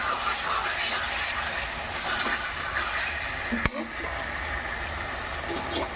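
Parboiled taro stolons sautéing with spices in a pan, a steady sizzling frying hiss with stirring scrapes and one sharp clink partway through, constant and fairly close.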